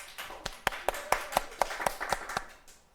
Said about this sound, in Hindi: ए तालियां बजाओ।